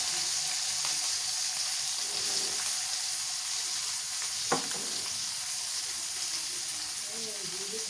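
Coriander, onion and garlic pastes, with green chilli paste, fry in hot oil for a carp curry. The sizzle is loud, steady and hissing throughout, with one sharp knock of a utensil partway through.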